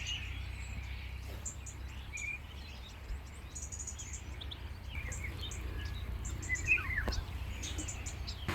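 Migratory birds gather and call in the countryside near Kumrovec, scattered faint chirps and calls at a distance over a steady low background hum, with no one talking.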